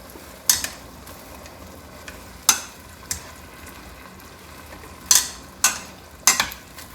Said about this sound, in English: let them saute there for a while. I'm stirring occasionally